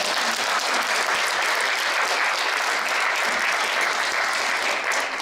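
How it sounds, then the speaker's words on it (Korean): Large lecture audience at a university forum breaks into continuous, dense applause after a talk by a lawyer, loud and even from start to finish with no speech over it. "큰 박수 부탁드리겠습니다"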